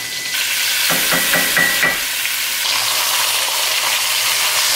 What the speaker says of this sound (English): So I'm adding all of the vegetables that we chopped up.